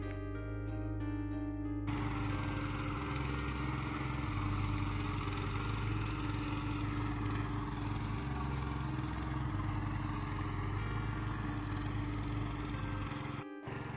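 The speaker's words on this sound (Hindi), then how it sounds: "तो ट्रैक्टर स्टार्ट करेंगे," Tractor engine running while ploughing a field in Mukteshwar, Uttarakhand, a continuous loud low mechanical rumble with steady chugging throb, close by, lasting throughout.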